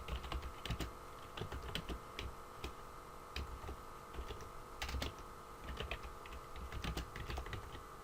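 Fingers tapping out a title on a computer keyboard in an irregular run of clicky keystrokes, close and fairly quiet, with brief pauses between bursts and no talking.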